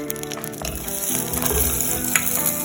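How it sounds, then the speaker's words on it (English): Butter for a caramel stout icing melts and sizzles in a pan with a steady, close frying crackle that holds level throughout and has no talk over it. "For the caramel stout icing, melt 1/4 cup of butter"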